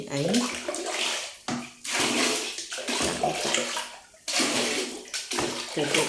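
Strong running water pours for hand-washing laundry, a loud rushing stream broken by brief pauses and splashes, with a voice talking over it.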